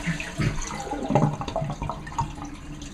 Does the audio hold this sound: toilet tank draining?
yes